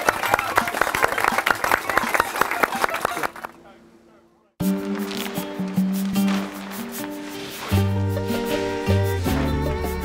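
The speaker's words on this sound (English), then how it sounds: "So let's all give all ourselves a round of applause." A group of students in a synagogue replication building project clap together in a burst of dense applause that fades out, then gives way to music.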